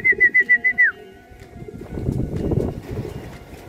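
A pigeon coos in a quick run of six soft, even hoots at a pigeon race, close and clear, followed by a rustling, murmuring background.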